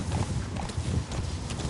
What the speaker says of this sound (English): Alright, Horsey, let's go